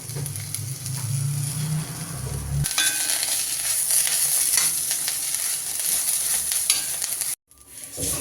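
Ingredients for raw-banana kola urundai, salted and sautéed in a pan, sizzle loudly and steadily with continuous stirring scrapes. The frying drops out briefly near the end, then resumes.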